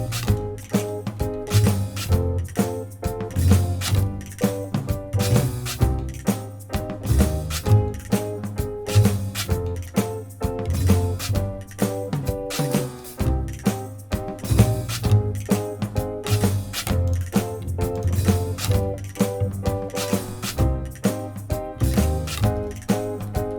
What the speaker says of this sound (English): I recorded a doubling of the piano chords with the picked guitar, and that sounds like this.